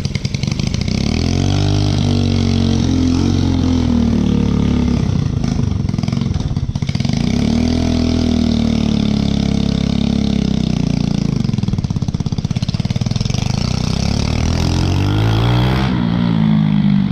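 A go-kart engine runs steadily and loudly up close, a rough continuous drone with a couple of brief dips in pitch, with no talk over it.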